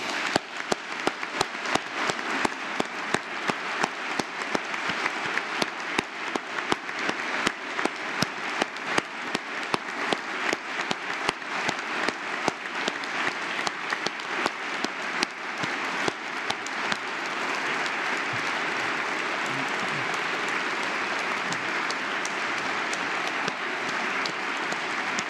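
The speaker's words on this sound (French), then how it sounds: "nous leur rendrons hommage en les applaudissant" Audience applauding prize and foundation laureates standing together at an Académie awards session, steady dense clapping throughout with sharp claps early, settling into a continuous wash of applause filling the hall.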